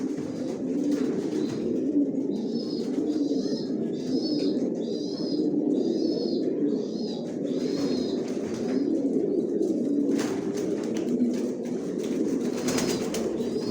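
Loft pigeons kept by a hobbyist, with nesting birds and red checkers among them, coo continuously in overlapping throaty rolls, with occasional higher chirps mixed in and no voices.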